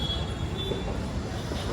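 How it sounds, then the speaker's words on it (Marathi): Low, steady rumble of a train standing at a railway station platform with a faint metallic squeal, constant and enveloping, no voices. "स्टेशनवर आलोय. ट्रेन पण लागून आहे."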